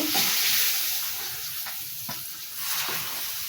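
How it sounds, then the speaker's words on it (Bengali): Rohu fish curry bubbles in a pot as fish pieces go in, a steady hissing simmer close by with a few soft thuds and stirring knocks, and no one talking. "আমার ঝোল ফুটতেছে, আমি এখন মাছগুলো দিয়ে দেব"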